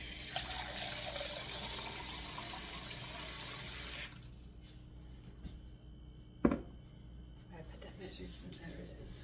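Cold water is poured or run for sauerkraut brine, a steady, fairly loud rush for about four seconds that then cuts off, followed by quiet handling noises and one sharp knock.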